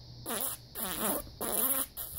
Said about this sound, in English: Oh, I farted.